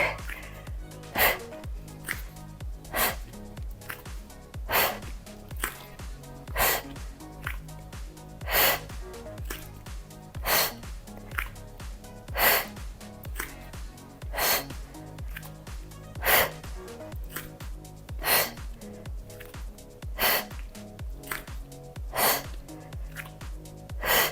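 Sharp, forceful exhales repeat at a steady workout pace through a strength routine for shoulders, arms, back and chest, roughly two dozen breaths over a continuous rhythmic music bed.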